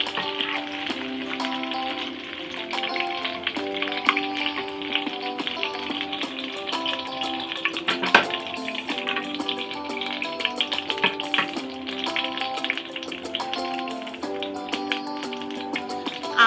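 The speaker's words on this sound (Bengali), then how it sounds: "আমি এই গরম অয়েলের মধ্যে বড় সাইজের একটা অনিয়ন কেটে দিয়ে দিলাম।" Onion slices fry in hot oil in a pan used for porgy fish, giving a steady, close sizzle with occasional taps, under continuous background music and without speech.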